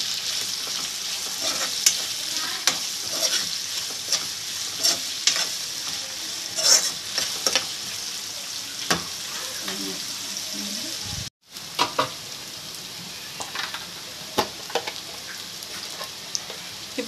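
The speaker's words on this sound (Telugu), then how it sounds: "అవి వేగాక ఇవి కూడా బ్రౌన్ కలర్ వచ్చేంత వరకు కూడా బాగా మగ్గిపోవాలి ఆయిల్లోనే." Sliced onions and green chillies fry in hot oil for an okra and egg stir-fry, a steady close sizzle broken by scraping stirs from a spatula, with one brief dropout partway through.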